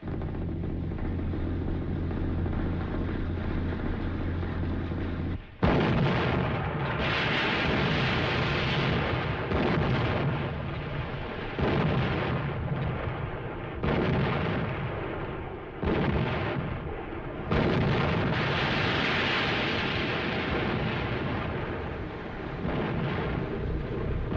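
Heavy guns firing in a wartime naval battle, a dense, continuous barrage of booming blasts and rumbling explosions that stays loud from start to finish, with no speech.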